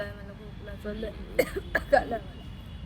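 A few short, harsh coughs come in a quick cluster, close and fairly loud over a quiet room hum.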